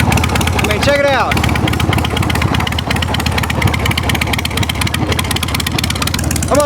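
A Harley-Davidson EVO Sportster chopper with drag pipes idles loud and close, a steady rumbling engine throughout, while someone talks over it.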